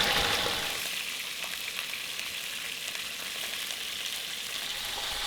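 Bratwurst and onions fry in a pan at a Montana elk hunting camp, giving a steady, dense sizzle that stays close and even throughout with no talking.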